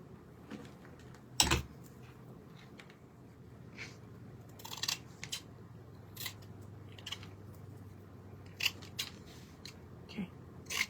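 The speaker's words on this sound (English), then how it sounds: "All I'm doing is trimming these edges here, the excess fabric, taking off the corners" Scissors snip excess fabric off the edges and corners of a foam-padded frame, sharp close crisp cuts spaced irregularly over a soft room hush.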